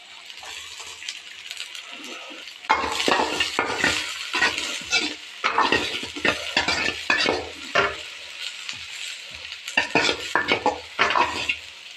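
Chopped onion and garlic frying in refined oil in a pan, a steady sizzle broken by repeated scraping and clattering spatula strokes against the metal, loud and close.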